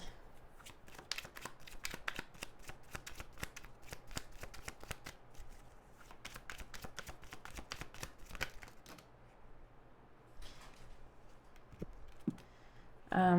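Fortune-telling cards are shuffled close by in a dense, rapid riffle of soft slaps and flicks that continues for about nine seconds, slows, then ends in a few scattered taps, with no speech.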